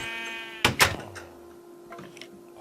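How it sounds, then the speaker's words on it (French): A sheep in a game bleats twice in quick succession, loud and close, followed by quieter scattered game sounds over a steady low hum. "Là, il y a un mouton."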